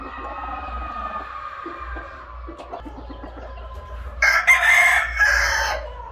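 A Kelso and half-Asil rooster crows loudly near the end, preceded by a steady hum and soft background noise with faint clucking.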